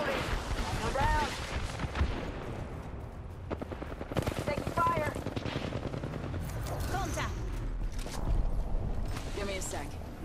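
Gunfire in Apex Legends Season 9 ranked play crackles in rapid bursts and scattered shots throughout, mixed with game voice callouts over the steady battle din.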